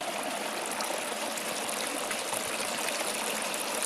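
Overflow water from a wash plant pouring out through holes in the back, a steady, close rushing and splashing stream that holds even and continuous throughout with no voices.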